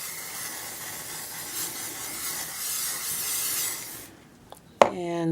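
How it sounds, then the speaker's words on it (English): Hairspray from an aerosol can sprayed onto an art journal page in a steady, close hiss lasting about four seconds; it then stops, followed by a brief knock and a faint clatter. "I'm just gonna fix it a bit with hairspray"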